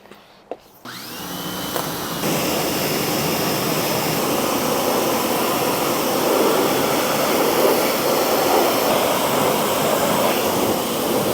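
An AR Blue Clean 2300 PSI electric pressure washer sprays Porsche car wheels. After a brief quiet start with a click, a loud, steady, close hissing roar sets in and holds unbroken with no talk.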